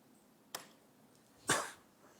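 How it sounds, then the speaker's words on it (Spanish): A small cough in a quiet room during a civic dialogue forum, one short sharp burst followed a second later by a louder, rougher cough, both faint against near silence. "Hay una pequeña tos."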